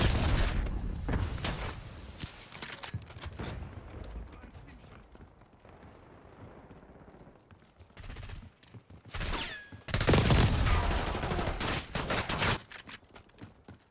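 Gunfire from the video game Black Ops, a series of sharp shots and bursts in short clusters with a quiet gap midway, then a loud volley near the end, with voices speaking over parts of it.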